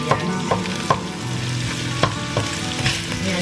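Garlic and onions sauté in a hot pan for a Filipino pakbet, giving a steady close sizzle broken by several sharp clicks and scrapes as the utensil stirs against the pan.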